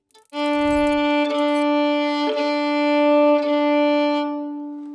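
A single sustained violin note drawn with the whole bow rings out clear and steady for about four seconds, with slight swells at bow changes, close and alone.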